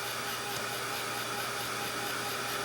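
Hair dryer blowing over wet acrylic paint on a Christmas snowman and sleigh painting, a steady close whirring roar with an even airflow hiss and no pauses.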